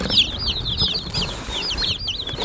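Meat bird chicks fresh from McMurray Hatchery peep in a brooder: a close, busy chorus of shrill, rising and falling cheeps over a soft rustling background.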